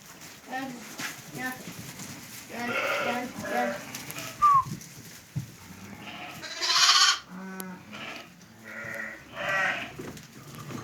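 Sheep and lambs bleat several times at close range, with a few shorter cries mixed in and some soft background noise between calls.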